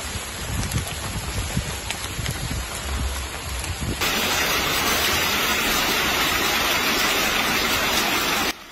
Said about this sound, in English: Il grêle. Ça fait à peine 2 minutes que ça a commencé.